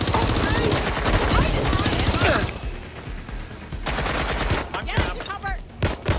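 Heavy automatic gunfire in the video game Watch Dogs: Legion, with dense sustained bursts that pause briefly and then return as sporadic shots and rattling volleys, with some voices talking underneath.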